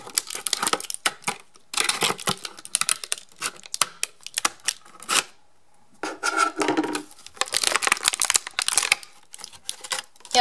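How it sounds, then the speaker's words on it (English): Scissors snip and crunch through plastic toy packaging on a Mega Bloks ODST armor pack, with a rapid run of close, sharp cutting and crinkling noises broken by short pauses. "so I'm going to get my scissors again."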